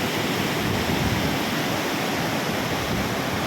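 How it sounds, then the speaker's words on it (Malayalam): A waterfall at Thenmala swollen after rain, with flowing water pouring in a steady, dense roar that stays loud and unbroken throughout, with no voices. "അടിപൊളി വെള്ളച്ചാട്ടം അതുകൊണ്ടാണ്."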